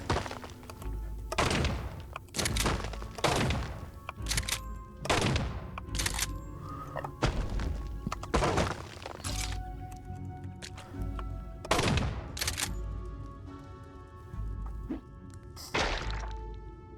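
Shotgun blasts in the Caves of Qud roguelike game, around a dozen sharp, punchy thunks spaced irregularly over the stretch, each loud and close with short decaying tails and quieter gaps between.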